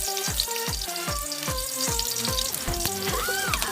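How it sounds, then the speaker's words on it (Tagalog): White medium-sized onions being stirred and sautéed in a frying pan for Kapampangan sotanghon guisado, with a steady loud sizzle and clinking stirring strokes repeating throughout, close up, no talk. "Haluin hanggang sa maging transparent yung sibuyas"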